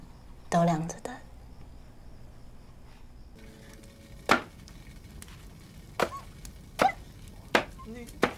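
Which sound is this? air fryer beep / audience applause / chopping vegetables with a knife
chopping vegetables with a knife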